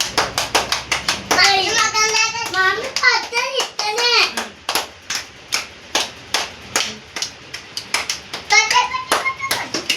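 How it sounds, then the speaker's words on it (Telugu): Children clap their hands in a brisk, uneven run of sharp close claps, with a voice chattering over the first half and again near the end. "క్లాప్స్ కొట్టండి."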